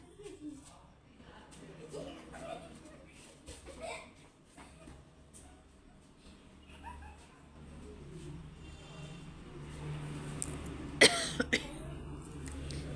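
A person coughs and clears their throat in a home kitchen while rohu fish is being fried, with several short, faint coughs spread through quiet room noise.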